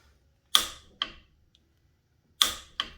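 Torque wrench tightened to 70 foot-pounds on a Hammer 1275 engine, giving two pairs of sharp metallic clicks, close and distinct against near silence.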